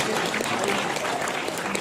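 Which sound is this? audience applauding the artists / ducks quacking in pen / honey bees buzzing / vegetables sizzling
audience applauding the artists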